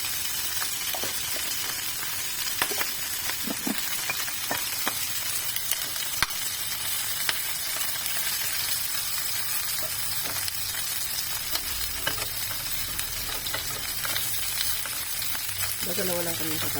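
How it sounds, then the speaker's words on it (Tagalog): Shrimp fry in olive oil in a home kitchen pan, giving a steady, dense sizzle with scattered crackles and pops throughout, occasional stirring clinks, and no talking. "So magpiprito na ako ng hipon"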